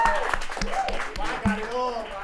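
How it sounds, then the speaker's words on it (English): An audience claps for a performer at a campus variety show, with brief scattered clapping mixed with voices and chatter. It sounds short and fairly close. "Give him another round of applause."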